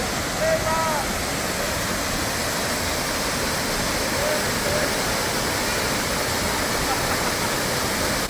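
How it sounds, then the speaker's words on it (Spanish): A waterfall along a hidden trail near Pucón and Curarrehue in Chile roars in a dense, continuous rush of falling water that stays loud and even throughout, with faint voices briefly above it. "Cascada número 2."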